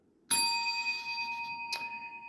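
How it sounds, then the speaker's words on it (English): A bell rings on a podcast, one bright, clear ding that rings on with a sustained tone, followed by a second lighter strike shortly after, loud and close with no talking over it. "if you try to mess with me, you get the bell."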